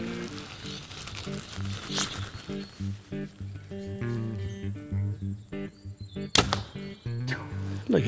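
Arrows are shot from a bow at an archery target during bow-shooting practice for hunting, with a few sharp releases and thuds standing out over background noise and brief talk.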